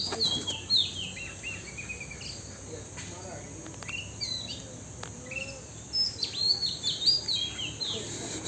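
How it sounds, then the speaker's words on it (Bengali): Birds chirp near a village where an egret stands close by: high, quick chirps and tweets come in repeated bursts over a steady insect drone, with a few faint voices in the background. "দেখ বক পাখি আমার কাঁধে উঠছে মিনো"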